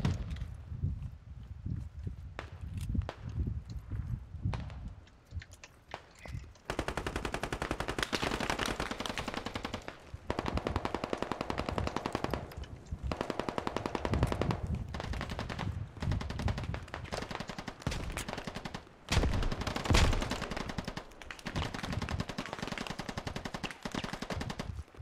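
Sustained machine-gun bursts and rifle fire in the military shooter game Squad, dense and loud almost continuously across a market-area firefight, with brief lulls between volleys.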